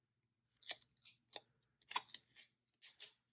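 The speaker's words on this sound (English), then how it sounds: "I'm going to cut this sticker" Scissors snip a planner sticker in five or six quick, crisp cuts spaced unevenly, close and quiet in an otherwise silent room.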